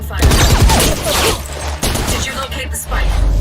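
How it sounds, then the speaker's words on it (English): Gunfire in the tactical shooter Valorant, dense bursts of rapid shots and impacts layered over game sound effects and ongoing voice chatter, loud and continuous through most of the stretch. "We're picking up gunfire."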